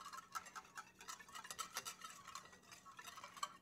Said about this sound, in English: While we whisk our ingredients